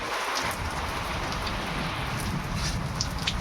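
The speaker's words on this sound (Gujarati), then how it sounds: "જો અત્યારે વરસાદ આવે જોરદાર" A dense, constant downpour of heavy rain with a windstorm hisses and drums nearby on a farm, with occasional sharper drops standing out from the steady roar.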